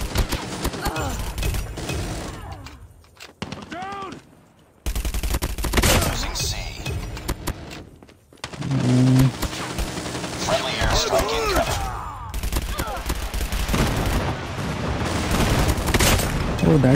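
A gun fires in rapid bursts in the video game Call of Duty Mobile, with sharp repeated shots broken by brief pauses, loud and close amid game sound effects.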